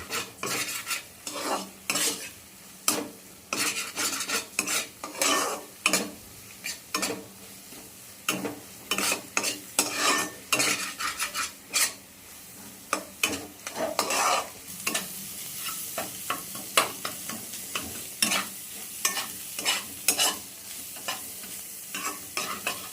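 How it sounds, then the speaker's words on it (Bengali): Egg tadka ingredients fry in a pan while a spoon stirs and scrapes, giving a run of sharp, irregular clinks and scrapes over a continuous low sizzle, close and fairly loud, with no voices. "এবারে ভালো করে ভেজে নিতে হবে।"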